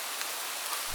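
Steady rain falls as an even, dense hiss, unbroken and fairly close, with no other sounds.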